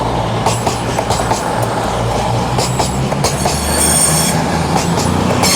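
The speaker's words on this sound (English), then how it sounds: "now we have a cross-country Voyager on its way down to Plymouth from Edinburgh Waverley" A CrossCountry Voyager diesel train, unit 220-019, passes at Manors station in Newcastle: a loud continuous rumble with rhythmic wheel clatter and bursts of high squeal, close and steady throughout.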